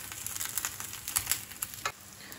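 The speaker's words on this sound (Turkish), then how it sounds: "Patlıcanlarımızı çevire çevire tüm yüzeylerinin kızarmasını sağlayalım arkadaşlar." Eggplant pieces fry in hot oil, giving a quiet, steady sizzle broken by scattered crackles and pops.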